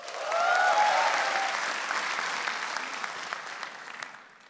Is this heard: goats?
no